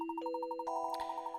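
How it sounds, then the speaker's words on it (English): Bells in Professor Layton and the Last Specter, soft bright ringing with rapid repeated strikes on one bell and then sustained tones from several more bells, quiet and clear. "How the bells toll."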